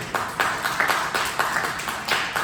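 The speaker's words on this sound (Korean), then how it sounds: "여러분들 박수로 환영해 주세요." A church youth group claps together to welcome visitors in a fairly close, steady burst of applause that runs for a couple of seconds, with no voices over it.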